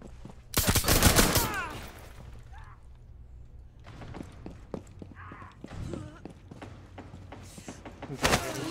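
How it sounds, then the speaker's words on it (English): Shotgun fire in the video game Rainbow Six Siege, a loud burst of blasts near the start followed by scattered sharp shots, footsteps and clatter, with faint voice sounds under the action. "I hear a shotgun."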